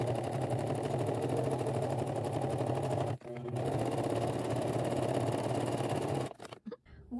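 Sewing machine stitching a leather crossbody bag, running in a fast, steady mechanical rattle, pausing briefly once, then resuming before stopping with a few clicks at the end; close and loud.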